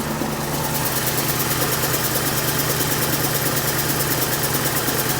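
A 1997 Cadillac hearse engine idles just after a spark plug change, a close, continuous, even rumble with a steady fast pulse and no breaks.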